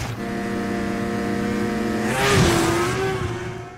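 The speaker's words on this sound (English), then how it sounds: "As soon as he's home, Cory and Sonia rev it up in the Great White North." The engines of a water bomber aircraft rev up, a loud steady mechanical drone with rising and shifting tones building toward a louder peak late in the clip, heard alone without talk.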